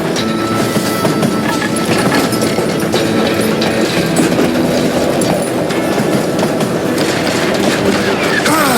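A train in the Wild West video game Call of Juarez: Gunslinger races along its tracks, its loud, continuous rumble and rapid clickety-clack filling the scene without a break.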